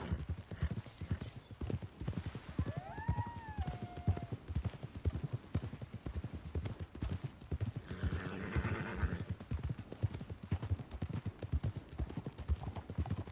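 In Red Dead Redemption 2, horses' hooves clip-clop in a steady, close rhythm, and one horse gives a short whinny partway through. Faint talking is heard underneath.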